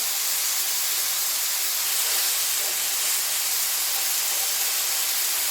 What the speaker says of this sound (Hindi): जितनी देर ये चिकन कुक हो रहा है